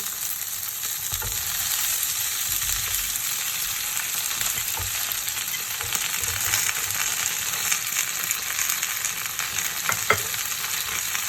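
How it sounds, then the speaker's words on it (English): Chinese yam stir-fries in a pan with green peppers, giving a loud, continuous sizzle with occasional scraping and stirring knocks throughout. "And stir fry it. Add Chinese yam."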